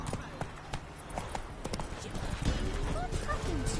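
Roach, the horse in The Witcher 3, trots along with a steady clip-clop of hooves at moderate distance, mixed with game ambience and a brief snort or creak.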